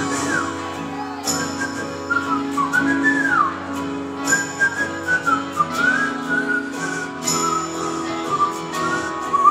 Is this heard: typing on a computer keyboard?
no